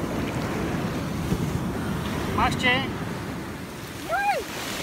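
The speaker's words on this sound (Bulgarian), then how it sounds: "Има вълни." Ocean waves on a California shore wash in a steady, broad rumble mixed with wind buffeting the microphone, and a voice briefly calls out twice.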